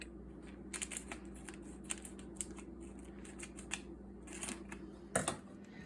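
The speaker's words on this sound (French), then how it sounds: "je vais utiliser les ciseaux pour couper un petit bout du sac" Scissors snip the tip off a piping bag filled with meringue in a home kitchen during macaron making, giving a few faint, light clicks and snips over low background hum, with one sharper snip near the end.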